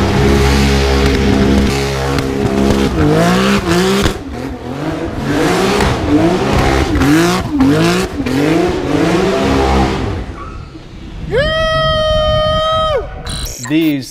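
An 800 hp Porsche 911 GT2 revs hard while doing donuts, its engine note rising and falling in repeated loud surges, with a sharp high-pitched whine near the end.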